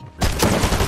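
Rapid burst of video-game gunfire erupting after a brief quiet lead-in, loud and dense, a continuous volley of shots with no talk.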